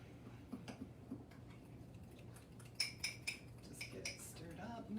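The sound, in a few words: stirring chocolate mug cake batter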